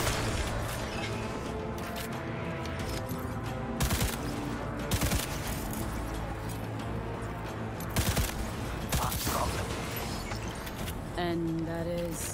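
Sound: gunfire in video game Cyberpunk 2077

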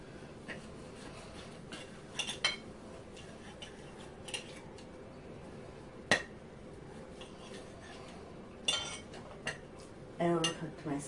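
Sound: silverware scratching on a plate

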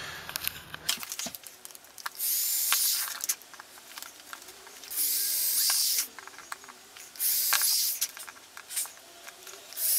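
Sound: drilling pilot holes in soft wood for LEDs

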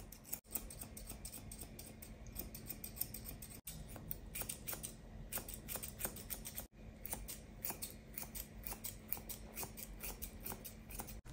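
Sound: scissors trimming a wire haired fox terrier's coat

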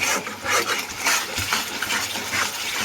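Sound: stirring and sautéing spice paste in a pan

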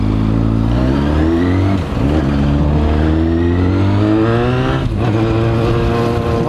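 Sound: Yamaha FZ6N motorcycle engine revving while riding

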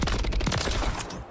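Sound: gunfire shooting through a door in Call of Duty video game

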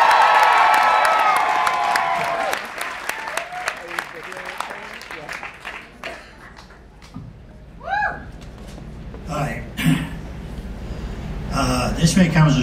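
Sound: audience applause and cheering

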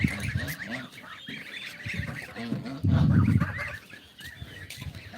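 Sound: chickens clucking

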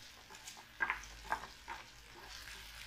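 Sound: mushrooms sautéing in a pan on low heat

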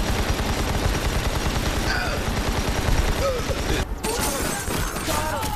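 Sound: gunfire from the video game Army of Two: The Devil's Cartel

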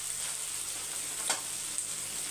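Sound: onions frying in a pan

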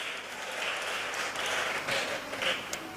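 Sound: audience applause at a graduation ceremony

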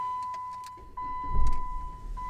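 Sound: 2007 Jeep Compass engine starting

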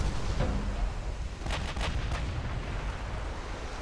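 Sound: ammo detonation explosion in Ultimate Admiral: Dreadnoughts video game

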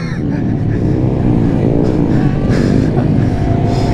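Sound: motorcycle engine revving during a wheelie

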